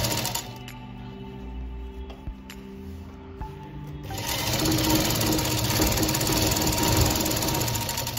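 A sewing machine stitches a baby bonnet, starting with a few isolated clicks and short bursts before running in a steady, close mechanical whir for the last several seconds.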